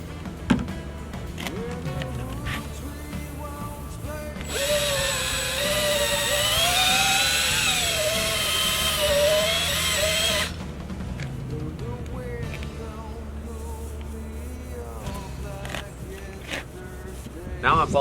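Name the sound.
polishing Harley-Davidson trunk with rubbing compound, power buffer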